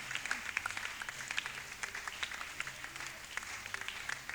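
Church congregation applauding during a French-language worship service, a steady wash of many hands clapping at moderate distance with no voices over it.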